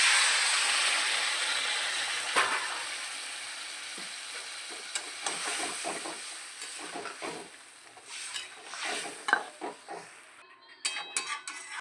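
Water hisses and sizzles as it is added to a hot pan of frying drumstick (moringa) stems, with stirring and a few utensil scrapes and clinks.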